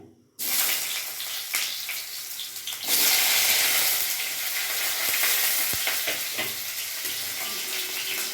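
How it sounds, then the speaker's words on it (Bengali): Cut pointed gourd pieces drop into hot oil and fry with a loud, steady close sizzle that swells after a few seconds and holds, with a few faint utensil knocks and no speech. "এবার আমি এখানে পটল কেটেছি পটলটাও আমি ভেজে নেবো"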